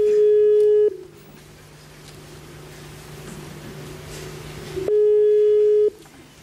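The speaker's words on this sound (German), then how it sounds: "Ah, Freizeichen." Telephone ringing tone during a call, two long steady electronic tone bursts separated by a quieter gap with faint background hiss, loud and close.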